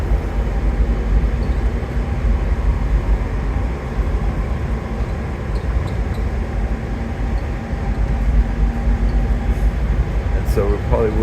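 A DC Metro train ride out of Union Station, with a steady rumbling hum of the railcar running throughout and a faint squeak near the end.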